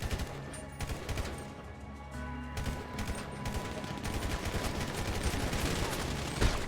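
Rapid automatic gunfire in a GTA 5 multiplayer match crackles continuously from start to finish, with dense overlapping shots and brief gaps, while players talk faintly underneath.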